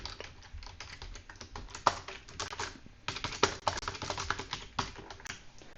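Code is typed on a computer keyboard while writing a C++ program, a dense, steady patter of close key clicks with a short pause partway through and a few louder strikes, no talking.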